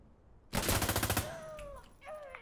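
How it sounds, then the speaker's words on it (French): A short, loud burst of rapid automatic gunfire in Insurgency Sandstorm during an urban assault, a fast rattling string of shots lasting under a second, followed by quieter ringing tones and faint background game sounds. "Fais gaffe, vous tirez."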